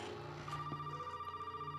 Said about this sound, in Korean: 뭔 전화냐 또. 나갈 때 전화가 왔고.